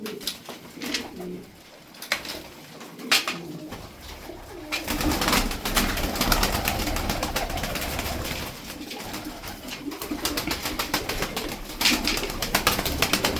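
Milk-white tumbler pigeons cooing close by, soft repeated throaty coos mixed with rustling and occasional wing flaps, starting quieter and growing busier and louder partway through.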